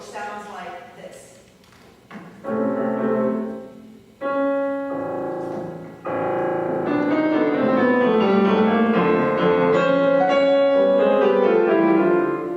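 Solo piano playing an excerpt from the first movement of Bartók's Piano Sonata, with percussive chords and sustained notes, starting in separated bursts and growing louder and denser, heard close and clear.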